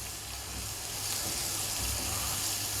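Chopped onions sizzling in a frying pan with potatoes, a steady, moderately loud hiss and crackle that holds evenly throughout with no talking.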